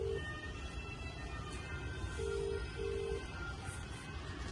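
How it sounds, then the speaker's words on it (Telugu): A phone ringback tone sounds in short repeated beeps over a low steady hum, faint and tinny as if through a speakerphone. "ఫోన్ చేస్తున్నాం చూడండి గైస్"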